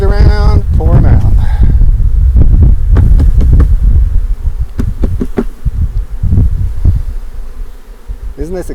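Honey bees buzzing loudly and close as they are knocked and poured into a hive at Stone Beach Farm, a dense droning hum with thumps and rustling early on, easing slightly toward the end.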